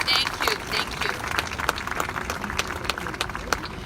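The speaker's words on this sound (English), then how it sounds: "How about another round of big applause for the great performers?" Applause from an event audience for performers at an anniversary celebration, a dense steady patter of many hands clapping at moderate distance, with no voices over it.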